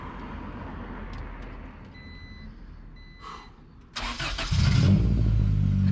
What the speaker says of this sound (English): But Zach, would you like to start your 97 Integra GSR swapped engine up so everybody can hear what this thing sounds like?